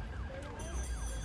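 An ambulance siren wails in a steady repeating sweep, fairly loud and continuous, during a rescue evacuation in a town's historic centre.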